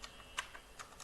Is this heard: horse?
no